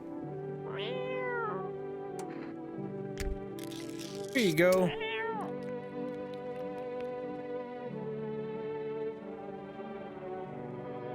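A cat meows in the video game No I'm Not A Human, a couple of rising-falling meows over a steady droning tone, with a person speaking briefly in between.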